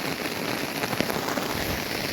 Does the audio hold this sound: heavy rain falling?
yes